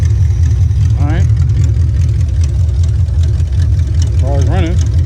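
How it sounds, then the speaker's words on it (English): A Chevrolet Monte Carlo SS engine idles with a steady low rumble throughout, while a person speaks briefly twice over it. "Car's running. Sounds low."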